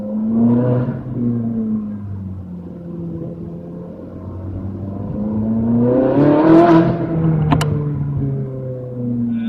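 Ferrari 458 Speciale engine revving hard in traffic, its rising, layered howl climbing toward a screaming peak and then easing off, with no talking.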